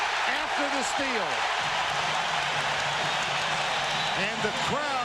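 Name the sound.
basketball arena crowd applauding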